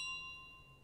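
A single bell rings faintly in Untitled Goose Game, one clear struck tone that hangs and slowly fades over less than a second.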